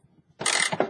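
A ratchet tightens the bracket bolts on an Owens installation: a few faint ticks, then a short, close burst of rapid clicking that lasts under a second.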